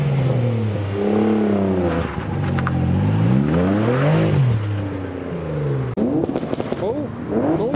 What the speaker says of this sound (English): Oh, noises from the 350 as the MX-5 rolls past.